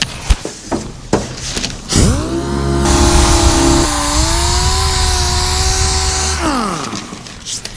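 Power sander working epoxy primer on a GMC Suburban, spinning up after a few knocks into a loud steady whine that shifts pitch once midway, then winds down near the end.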